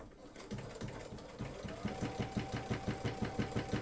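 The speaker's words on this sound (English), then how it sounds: "I am just going to simply use the J-foot and stitch." A domestic sewing machine fitted with a J-foot stitches knit fabric, its motor whirring into a steady, rapid rhythmic chatter of needle strokes, close and fairly quiet.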